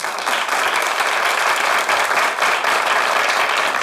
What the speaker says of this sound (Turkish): Ecem'le Gözde'yi alkışlıyorum.